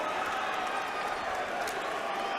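Crowd at a high school basketball game between Sierra Canyon and LeBron James's old school, clapping and murmuring steadily under an announcer's voice.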